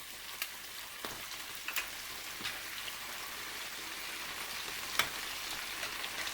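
Chicken pieces roasting in hot oil make a steady, fine crackling sizzle, with a few sharper pops and spits standing out now and then, no voices over it.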